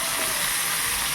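Dried red chillies and panch phoron sizzling in hot oil for a Bengali tempering, a steady close hiss and crackle that holds evenly throughout, with no talk over it.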